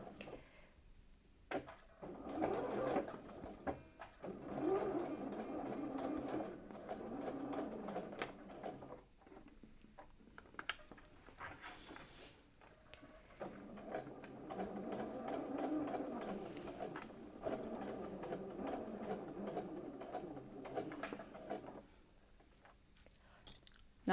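A sewing machine runs in bursts of rapid, even needle clatter, stopping and restarting with short pauses between stitching runs, fairly close but quiet.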